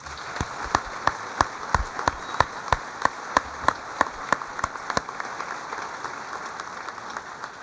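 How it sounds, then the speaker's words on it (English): Applause at a Coast Guard change-of-watch ceremony, honoring a vocalist and the Coast Guard band. A few sharp, close, evenly spaced claps stand out over softer crowd clapping for about five seconds, then trail off into a light hiss. "could we just have a round of applause for our incredible vocalist and our Coast Guard band?"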